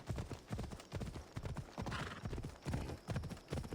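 Horse hooves clip-clop in steady, close rhythm across the whole stretch in Assassin's Creed Odyssey, a loud run of galloping beats with a brief snort-like burst partway.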